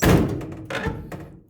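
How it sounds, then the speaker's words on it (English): A car door on a 1941 Plymouth or 1947 Studebaker hot rod is shut with one loud, close thunk, followed by a second, lighter knock a moment later and a faint tap at the end. "that door needs adjusted because I want it to shut halfway decent"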